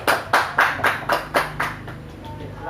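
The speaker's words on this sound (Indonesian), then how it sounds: "kita beri tepuk tangan yang meriah dulu untuk Reva" Classroom applause for a student: a run of about nine sharp, evenly spaced claps that start loud and fade gradually, with no voices over them.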